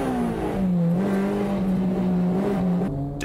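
MCR race car with a cracked cylinder block lapping the track, its engine a loud, sustained drone whose pitch dips and rises slightly as it holds the throttle, close by, with no voices.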